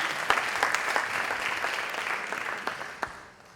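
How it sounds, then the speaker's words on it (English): Audience applause at a digital storytelling talk as volunteers come up, a steady wash of clapping with a few sharp near claps standing out, fading toward the end. "round of applause for these guys"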